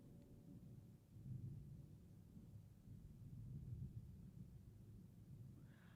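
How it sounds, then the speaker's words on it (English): A long, low thunder rumble rolls on for several seconds, distant and muffled, steady and heavy with no speech. "My God, that was like the longest, loudest thunder."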